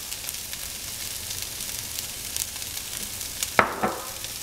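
Sliced onions sizzle steadily in a pan as they caramelize, a close, even crackle with a brief scrape of stirring near the end.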